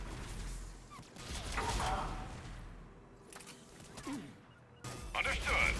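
Gunfire in the video game Mass Effect Legendary Edition comes in scattered bursts and single shots, fairly faint, mixed with clanks of machinery and game voices.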